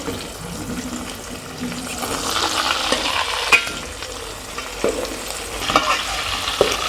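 Boiled eggs frying in a pan for egg curry, a steady broadband sizzle that keeps on throughout, with a few soft clinks and scrapes on top of it.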